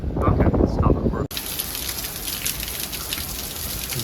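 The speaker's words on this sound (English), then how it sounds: "small scale storm that we happen to be right under" Monsoon rain pours from a storm directly overhead in Vail, Arizona, a dense, loud, steady hiss of drops on surfaces; a voice talks over the first second before the recording cuts to unbroken heavy rainfall.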